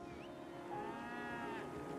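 A bull among cattle lowing, one drawn-out moo rising and falling over a soft low background, fairly faint and alone without talk.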